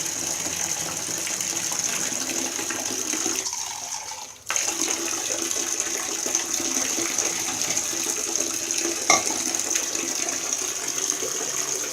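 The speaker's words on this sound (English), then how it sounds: "I'm going to pour it in the tub as it's still filling up" Water pouring from a tap into a bathtub as it fills, a steady continuous rush with a brief dip partway through, then resuming at the same even level, no voices.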